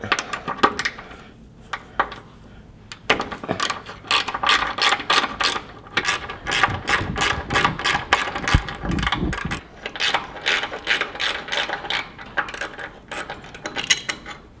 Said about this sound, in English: Next we're going to remove these two bolts here with the 12mm socket.